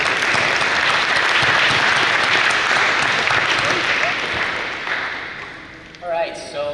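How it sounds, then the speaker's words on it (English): An audience applauds actors after a staged training role-play scene, a full burst of clapping that holds steady then tapers off, with a voice starting to speak near the end. "Can we get a round of applause for our actors?"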